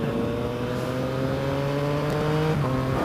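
A Yamaha MT-09 motorcycle fitted with a Zeeona exhaust rides at a steady, even engine drone with a strong low tone, and the pitch shifts slightly during a gear change near the end. No voices are heard.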